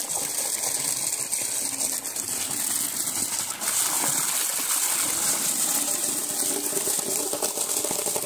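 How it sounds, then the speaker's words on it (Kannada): Water gushing steadily from a pipe into a tank in a dry farm field, a loud, continuous rushing pour with no talk throughout. "ಈ ಪೈಪ್ನ ಇದ್ರೊಳಗೆ ಇಡ್ಬೇಕ್ರಿ ಈಗ, ಯಾಕಂದ್ರೆ ನೀರು ಮ್ಯಾಲಿದ್ರೆ ಬೀಳ್ಬೇಕು ಅಂದ್ರೆ ಚಲೋ."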